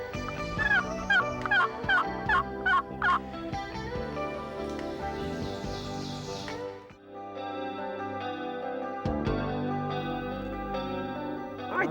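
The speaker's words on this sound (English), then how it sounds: "There's our new turkey." Wild turkey gobbles ring out in a quick series of loud, rattling calls, then fade into a musical backdrop with no talk.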